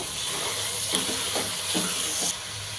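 Potato, beans, carrot and kohlrabi pieces are stirred in a hot pan, giving a steady close sizzle with a handful of scraping strokes, roughly five, as the spoon mixes the vegetables.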